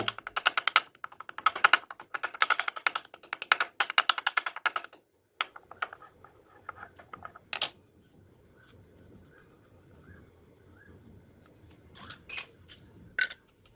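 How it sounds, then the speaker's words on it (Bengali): Garlic cloves pounded into paste with a mortar and pestle: about five seconds of rapid, steady, close tapping and clinking, then quieter scattered knocks and scrapes with no talking. "আমি এবার এই রসুনগুলিকে হামালদিস্তার সাহায্যে পেস্ট করে নেব"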